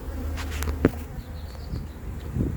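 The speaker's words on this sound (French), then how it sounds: "je vais verser les abeilles dessus pour voir ce que ça donne" A recovered swarm of honeybees being poured onto a hive support gives off a dense, steady buzzing drone, with a sharp knock partway through and a softer rustle near the end.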